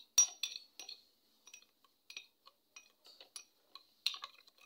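A metal spoon clinks against a glass while stirring sugar into mango juice, a quiet run of irregular light taps and chinks, some louder than others, with short silences between them.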